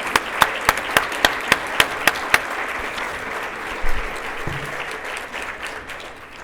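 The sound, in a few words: audience applause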